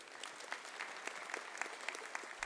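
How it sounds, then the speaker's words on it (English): Steady applause from an audience at a high school honor awards assembly, a dense wash of clapping with small bursts, moderately distant and without voices. "Let's have one more round of applause for all of our senior class officers."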